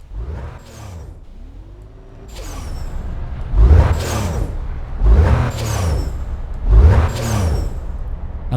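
A Porsche in the video game Need for Speed Most Wanted gives repeated turbo whooshes and hisses in a rhythmic cycle, four strong bursts over a low engine rumble.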